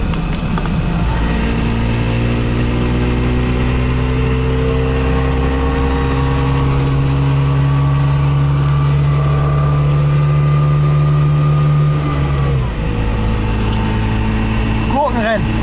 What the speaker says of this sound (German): Zeigen wir mal für überragende Leistung unser Trabant hat